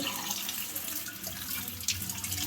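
Tap water runs steadily over pieces of desi chicken being washed in a kitchen sink, a close, continuous splashing gush with brief spattering bursts.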